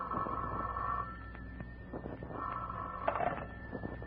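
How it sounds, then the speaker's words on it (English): An old-fashioned telephone rings in two long electric bursts with a pause between them, heard clearly in a 1950s radio drama. "the next morning, the phone rang early."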